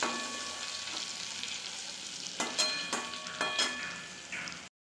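A small hilsa fish fries in oil, a bright steady sizzle with several sharp crackles and spatters, ending abruptly.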